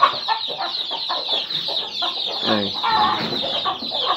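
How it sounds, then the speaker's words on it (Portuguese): A white rooster and hen cluck close by in a farmyard, giving repeated short clucks and throaty calls, with a brief spoken word. "um galinho todo branquinho pra montar junto com ela."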